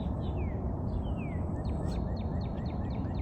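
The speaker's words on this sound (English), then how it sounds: "Listen to the Cardinal." Northern cardinal sings a series of clear, descending slurred whistles, repeating several times in quick succession, moderately distant over a steady low rumble of background noise.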